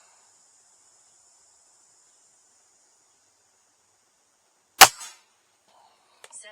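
Weihrauch HW97 .20 caliber air rifle fitted with a Vortek tune kit fires a single sharp, loud crack with a brief decaying twang, then some faint handling clicks, against near silence and a faint high hiss.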